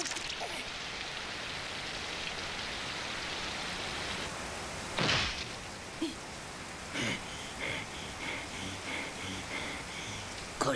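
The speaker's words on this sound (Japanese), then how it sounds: "雨だ。" Rain falls steadily in a Doraemon animated film, a constant hiss of drops on surfaces, broken by a few louder splashes and a sharp crack midway.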